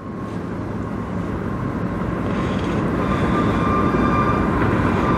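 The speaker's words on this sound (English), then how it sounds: "we got a train coming from the tunnel." A train approaches out of a tunnel on the Strathroy Subdivision, a low rumble that builds steadily louder, with a faint tonal hum over it and no speech.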